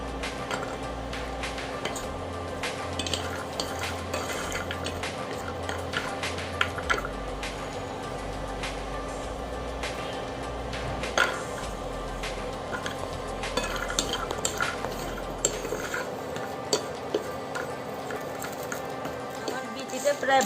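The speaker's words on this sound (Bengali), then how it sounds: "কয়েকটা কাঁঠালের বিচি একটু হালকাভাবে ভেজে নেব। এটা শুকনা তাওয়ায় ভাজছি আমি।" Jackfruit seeds dry-roast on a tawa, with steady scraping and light clinking of a spatula over a continuous low hum.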